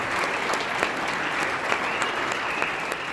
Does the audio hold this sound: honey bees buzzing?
no